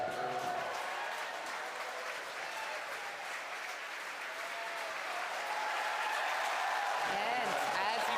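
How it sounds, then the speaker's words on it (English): Sustained crowd applause and cheering fill the room after a Falcon 9 first stage touches down on the drone ship during the TESS launch, dense and steady throughout with a slight swell near the end. "as you can hear from the applause"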